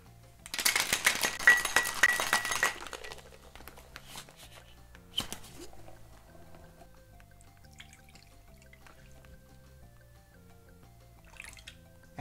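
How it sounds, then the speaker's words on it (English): Ice rattles hard inside a shaker tin for a few seconds as a cocktail is shaken, then fades to faint clinks and drips, with soft music playing underneath. "I'm gonna ice up my tin, ice up my glass, and shake it up."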